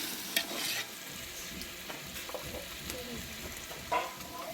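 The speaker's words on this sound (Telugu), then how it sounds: "చికెన్ ముక్కలకి మసాలాలన్నీ పట్టేలాగా బాగా కలుపుతున్నాం." Chicken pieces being stirred with masala spices in a pan for biryani, a soft scraping and stirring with faint sizzling underneath and a couple of louder utensil knocks, close by with no talking.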